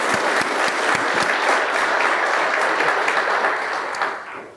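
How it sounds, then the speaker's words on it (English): A room full of people at a SECO Energy district meeting clapping steadily and loudly, a dense wash of applause that tapers off at the end. "So let's give our board a round of applause."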